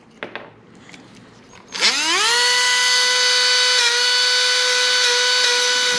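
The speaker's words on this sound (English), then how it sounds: "Actually really don't like how the wire wheel did." A Dremel rotary tool fitted with a wire wheel spins up with a rising whine and settles into a loud, steady high-pitched scream as it scuffs an aluminum roof top tent.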